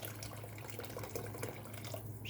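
Boiling water is poured from a kettle onto tomatoes in a kitchen, a steady splashing, hissing pour heard close with no voices.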